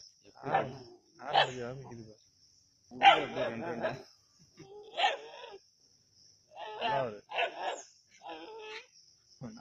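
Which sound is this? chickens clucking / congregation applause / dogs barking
dogs barking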